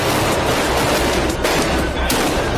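Sustained, loud gunfire as an active shooter and police officers exchange fire, a dense continuous barrage of shots filling the scene with no clear gaps.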